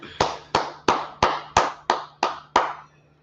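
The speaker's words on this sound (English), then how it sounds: "All right, clap it up." Eight sharp hand claps ring out alone at an even, steady pace, each with a short decay, fairly close and clear.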